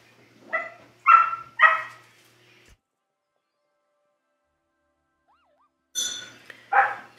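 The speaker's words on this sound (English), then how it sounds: "Sorry for my dog barking." A pet dog barks indoors in two bursts: three quick loud barks close by, a few seconds of silence, then two more sharp barks.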